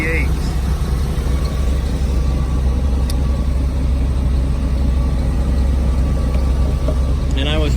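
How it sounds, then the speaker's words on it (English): A 1990 Chevy G20 hightop van's 5.7-liter 350 throttle-body fuel-injected V8 runs at a steady idle, a loud, constant low rumble that stays even throughout with no voices over it. "The throttle body fuel injected V8."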